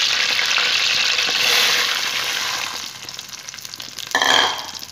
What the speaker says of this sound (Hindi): इसको हम मिक्स करेंगे अच्छी तरह। देखिए हमारी चीनी मेल्ट होना शुरू हो गई है।